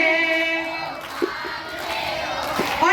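A large crowd of devotees at a Hindu devotional gathering shouts a chant back in unison, a loud sustained chorus of voices with brief sharper cries rising above it.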